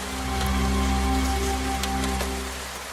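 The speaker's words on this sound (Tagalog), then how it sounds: "Umuulan pala." Steady rain falling on a surface at night, a constant soft hiss with a few faint patters, over a low steady hum, moderately quiet.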